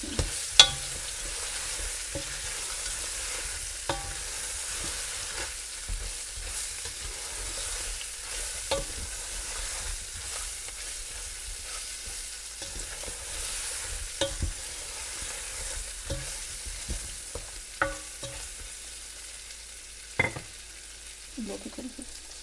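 Eggplants fry quietly in a pan over low heat under a soft, steady sizzle. A spoon stirs them with occasional light clicks and scrapes, and no voices are heard.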